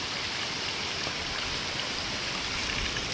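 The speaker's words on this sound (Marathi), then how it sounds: "जे काय डोंगराचं पाणी आहे ते सर्व पाणी खाली वाहून वाहून जातं आहे" Mountain runoff rushes steadily downhill in a flooding village stream after heavy rain, a continuous broad hiss of flowing water that stays even throughout, with no voices.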